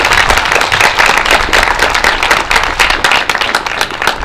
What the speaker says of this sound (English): And can we just give them all a round of applause?